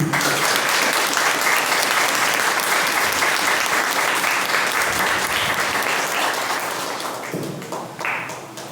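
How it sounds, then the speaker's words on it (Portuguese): A Catholic congregation gives sustained, loud applause, thick rapid clapping from many hands that holds steady for several seconds before easing slightly near the end. "uma salva de palmas para Jesus"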